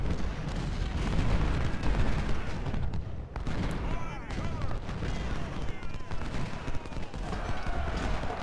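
Cannon and rifle fire from a Civil War battle in Ultimate General: Civil War rumble as a dense, continuous fusillade of overlapping booms and crackling shots, fairly loud throughout.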